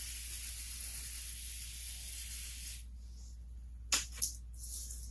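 Brake cleaner hisses steadily from an aerosol can for nearly three seconds up close, then stops, leaving a low hum and a couple of short taps and rattles.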